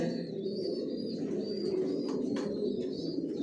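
Pigeons coo softly inside a racing-pigeon stock loft, low murmuring calls repeating steadily with a few faint chirps mixed in, all quiet and close.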